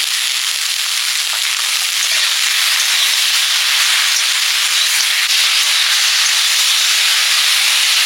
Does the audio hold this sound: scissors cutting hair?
no